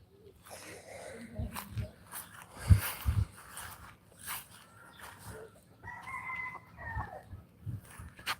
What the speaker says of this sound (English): I gotta put these chicks away because they've eaten all their feed that I put out